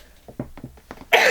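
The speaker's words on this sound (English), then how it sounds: "I try not to sneeze on camera." A person sneezes once after a few short breathy catches, the sneeze loud and close at the end.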